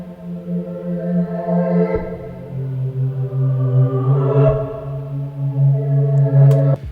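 Serum synth pad preset from Splice, a warm sustained chord drone with gentle swelling movement and two brief changes, loud and continuous with no voices.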